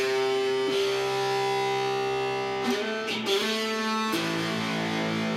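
Sustained guitar notes ring out with overtones, several strings sounding together and changing pitch a few times with brief plucks between, no voices.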